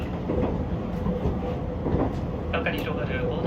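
A JR Gono Line train rolls slowly along the track, making a continuous rumble with faint wheel clatter. An onboard announcement speaks over the running noise.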